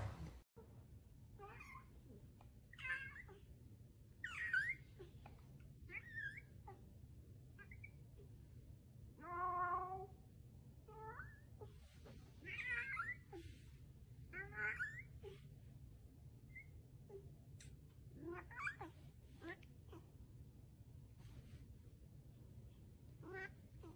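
A cat meows repeatedly in short, scattered cries, some higher and some drawn out, with quiet gaps between them and a low background hum underneath.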